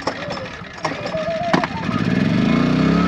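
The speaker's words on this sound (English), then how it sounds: "So here's our little yummy generator." A small 2 kVA portable generator runs beside a boat under refit. Its motor is steady and close, with a buzzy hum that swells and grows louder over the last second.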